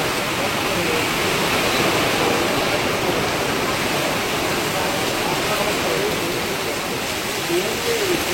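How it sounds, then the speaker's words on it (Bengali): Heavy rain pours steadily at an outdoor bird market, a dense, loud, continuous roar of water with no pauses, the downpour drumming evenly throughout. "বিশাল বৃষ্টি নেমে গেছে।"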